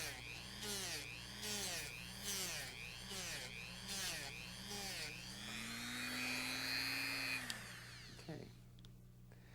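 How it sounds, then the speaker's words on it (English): Buffing wheel whirring against a soldered eyewear frame dressed with compound, rising and falling in rhythmic passes, then a steadier higher whine before spinning down, with a brief voice near the end. "dressed with some compound, and just lightly buff that soldered area."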